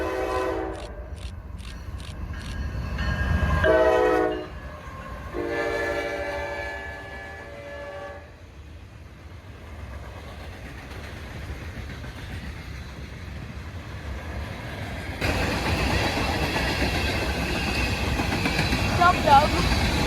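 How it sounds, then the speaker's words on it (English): A Norfolk Southern manifest freight train rumbles past with a horn blasting several times early on, then steady rolling clatter and a broad roar growing louder toward the end. "this is Norfolk Southern Manifest Train 13R, progressing down south."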